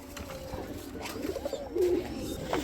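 Lahori pigeons kept for sale at a pigeon breeder's market coo softly nearby, with a low rolling coo rising above steady background noise.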